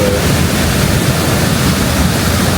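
Floodwater rushing over an improvised waterfall where a dry streambed has filled, a loud, unbroken broadband roar close by with no voices.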